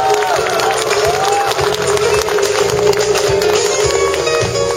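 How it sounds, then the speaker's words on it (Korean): Audience applause at a groundbreaking ceremony for a temple reconstruction, with dense clapping and crowd noise sustained loudly throughout over a steady background hum. "큰 박수 부탁드리겠습니다."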